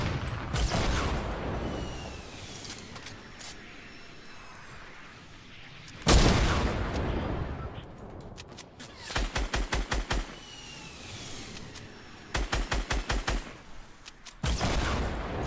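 Gunfire in the Fortnite battle royale game: heavy single blasts and several rapid bursts of automatic fire, loud and close, separated by gaps of quieter ambient game noise.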